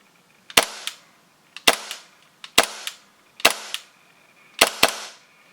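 Dry firing an empty custom gun build, with sharp, loud metallic snaps repeating about once a second, a few in quick pairs, each ringing briefly before a quiet gap, with no talking.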